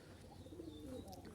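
Jalali pigeons cooing faintly at a distance, a low soft warble lasting about a second over quiet background.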